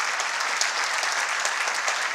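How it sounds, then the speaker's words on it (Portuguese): Church congregation giving a sustained round of applause during a conference service, a dense, steady wash of many hands clapping with no speech over it. "Vamos dar uma salva de palmas para Jesus?"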